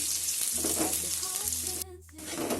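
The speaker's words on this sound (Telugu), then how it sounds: "ఆనియన్స్ బాగా ఫ్రై చేసుకోవాలి." Onions sizzle and fry in a pan for a curry, a dense hissing crackle with some stirring clatter, pausing briefly near the end before the sizzle resumes.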